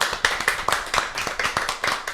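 A small group claps in a quick, uneven patter of individual hand claps after a live radio performance, close and fairly loud, with no talk over it.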